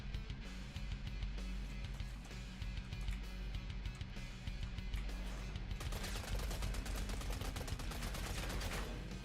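Gunfire in the video game Killing Floor 3 rattles in dense, rapid bursts as enemies are shot, a steady barrage of overlapping shots that grows louder and harsher near the end, with no voices over it.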